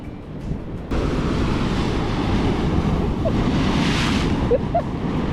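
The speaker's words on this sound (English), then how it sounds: "Let's wait for these waves to pick back up again." Ocean surf breaking on a beach near Lisbon, a steady broad wash of waves with a swelling surge partway through, gusts of wind buffeting the microphone, brief faint voices in the background.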